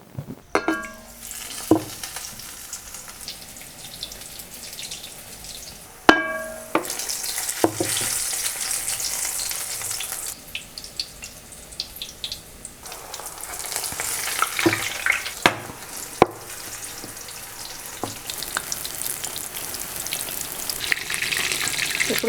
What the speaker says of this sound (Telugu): పొయ్యి మీద పెనం పెట్టుకొని మిరపకాయ బజ్జీ వేస్తాం కదా మనం, అది మునిగే వరకు నూనె పోయాలన్నమాట